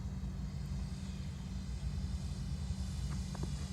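An E-Flite Super Timber 1.7 m RC airplane drones steadily and fairly loud overhead, its electric motor and propeller holding a constant low hum.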